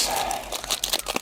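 Crinkly foil wrapper of a Yu-Gi-Oh Tactical Masters card pack being torn open up close, a brief run of crackling rips and crumples lasting about a second.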